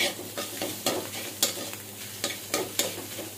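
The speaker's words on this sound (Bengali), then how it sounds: "ডিমটা যখন ভাজা ভাজা হয়ে যাবে সুন্দর একটা স্মেল বের হয়েছে" An egg fries in a wok for chicken chowmein, a loud sizzle broken by repeated scraping strokes of a spatula at an uneven rhythm, close up with no talking.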